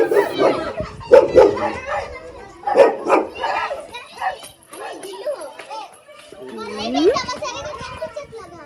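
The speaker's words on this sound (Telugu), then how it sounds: "అక్కడ కుక్క ఉంది కదా దాని పేరు చార్లీ" A nearby dog barks in short bursts among lively children playing outdoors, with kids' chatter and shouts mixed in.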